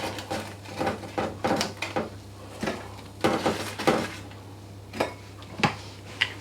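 Roast potatoes from an air fryer tumble into a bowl in a series of irregular knocks and clatters with uneven spacing, set over a steady low hum and with no talking.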